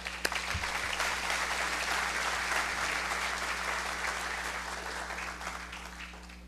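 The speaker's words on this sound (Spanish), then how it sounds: "Recibamos con un gran aplauso y cálido a nuestro invitado" Warm audience applause welcomes a guest speaker at a public-administration congress panel, steady and dense from start to finish, tapering slightly toward the end.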